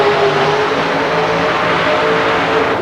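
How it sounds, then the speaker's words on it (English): Nitrous-injected, fuel-injected Dodge V8 in a super modified Jeep mud racer at an Evansville, Indiana mud race, roaring loudly and steadily throughout, a dense, sustained engine howl with no pauses. "it is another Chrysler-powered machine, a nitrous oxide-injected, fuel-injected Dodge motor"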